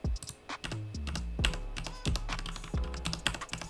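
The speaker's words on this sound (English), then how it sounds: "So let me type stuff here." Someone types on a computer keyboard at a desk, producing a steady close-up run of clicky keystrokes with irregular rhythm and no voices.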